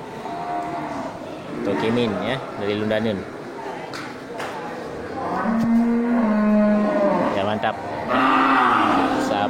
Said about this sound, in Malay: sapi persilangan simental dengan sapi angus